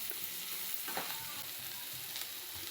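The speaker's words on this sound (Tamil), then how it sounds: "நல்லா வெங்காயத்தில் மஞ்சத்தூளும் உப்பும் போட்டு வெங்காயத்தை வதக்கலாம்." Chopped onions with turmeric and salt sautéing in a pan for adai dosa, giving a steady, close sizzle with occasional stirring scrapes throughout, no voices.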